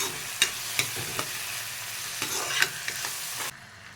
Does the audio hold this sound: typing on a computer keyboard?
no